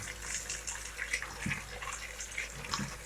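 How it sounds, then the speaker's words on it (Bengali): Running water splashes steadily over chowmein noodles as they are rinsed by hand, a soft continuous trickle with light intermittent splashes close by. "চাউমিনটাকে আমরা ভালো করে ধুয়ে নেবো"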